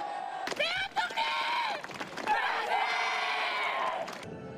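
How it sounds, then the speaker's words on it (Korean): A crowd outside a provincial government office in Chuncheon shouting manse cheers for Korean independence at a centennial commemoration, with repeated loud collective shouts swelling and falling, some thumps, ending abruptly. "100년 전 그날 도내 곳곳에서 울려 퍼졌던 대한독립 만세의 함성이 오늘 다시 더 힘차게 울려 퍼졌습니다."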